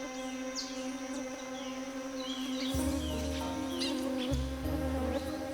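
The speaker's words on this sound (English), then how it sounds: "Luring in male orchid bees from as far as 30 miles away." Several male orchid bees buzz steadily and close, their drones overlapping and rising as more join, over a background of faint chirping.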